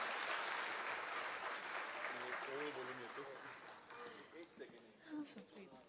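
Audience applause following a speech by Yuvraj Sambhaji Raje Chhatrapati, a dense wash of clapping that is loudest at the start and slowly thins, with voices talking over it.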